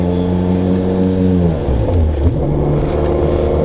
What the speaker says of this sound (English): So hey, we get another adventure bike going on down here.